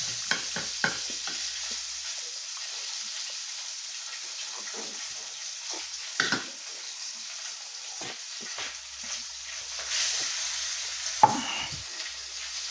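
Sliced bitter gourd (ampalaya) frying crisp in a pan, a soft steady sizzle with scattered stirring clatters and scrapes, fairly quiet and close.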